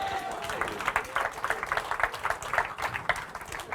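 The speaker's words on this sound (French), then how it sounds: "Est-ce qu'on peut applaudir Pascal, s'il vous plaît?" An audience claps for a man named Pascal during a Christmas-themed talk, with dense, steady applause from a crowd filling the short stretch and no voices over it.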